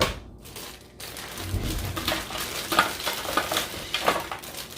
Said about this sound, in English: Add in the broccoli and a teaspoon of olive oil.